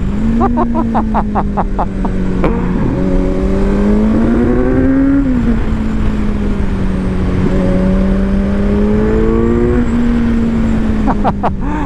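A 2021 Kawasaki Z900 motorcycle accelerates hard, its engine loud and close, climbing in pitch through repeated gear changes and surging again, with a brief revving flutter near the end.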